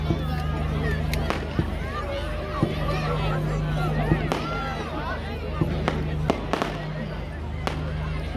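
Fireworks go off at a Bonfire Night fair in England, with repeated sharp bangs and crackling bursts, some near and some farther off, over a constant crowd hubbub and scattered voices talking.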